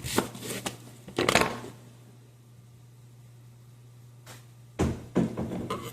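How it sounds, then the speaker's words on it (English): A knife rough-chops an onion for a cheeseburger pizza, giving a quick burst of close, crisp cuts, a pause with a faint steady hum, then another run of uneven chopping strokes. "It's kind of a really rough chop."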